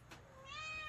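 A single short meow from a cat, close and clear, with rising harmonic tones over a faint background.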